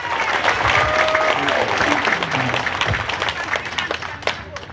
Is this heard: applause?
yes